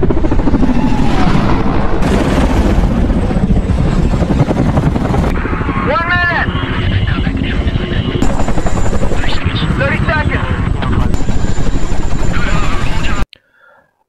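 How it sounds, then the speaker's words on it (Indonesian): Military Chinook and Apache helicopters flying out of Bagram air base toward hill country in Afghanistan, a steady heavy rotor drone throughout with bursts of radio-like chirps and noise layered on top, cutting off abruptly near the end. "Berangkat dari pangkalan udara Bagram dengan menggunakan 2 helikopter Chinook dan 2 helikopter Apache"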